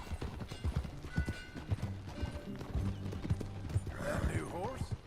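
Horse hooves clip-clop at a steady galloping rhythm in the video game Red Dead Redemption 2, close and continuous, with a whinny near the end and game voices and ambience underneath.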